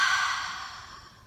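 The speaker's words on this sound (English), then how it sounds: "And now exhale, release." A single deep exhale released slowly as a long breathy sigh, close and clear, fading steadily toward the end with no talking over it.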